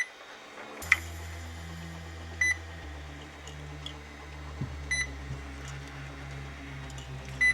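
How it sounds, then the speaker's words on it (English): Two small cooling fans on an RC car motor spin up after the ESC is switched on, producing a steady low hum and whine with a few faint beeps and clicks. "We can see that both fans are spinning correctly."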